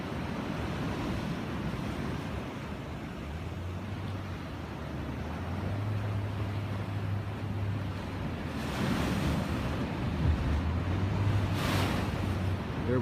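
Surf rolling in at Ocean Beach, San Diego, California: a steady wash of breaking waves close at hand, with wind buffeting the microphone and a low engine hum partway through.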